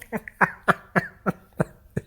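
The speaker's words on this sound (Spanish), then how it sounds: "No es cierto, tengo tos." A person coughs in a rapid series of seven or eight short, harsh bursts, evenly spaced and close to the mic, with no speech between them.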